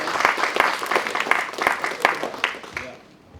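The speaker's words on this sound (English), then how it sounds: "No, that's too much applause for me." Audience at a live talk event applauds steadily with dense, loud clapping for a few seconds before it fades out at the end.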